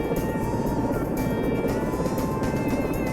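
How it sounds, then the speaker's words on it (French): A continuous, steady helicopter rotor and engine drone from the video game Search And Rescue 4, with a low rumbling thrum and whine, loud and close throughout, with no talking. "C'est un hélicoptère très rapide en fait."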